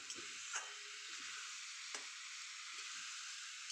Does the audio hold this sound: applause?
no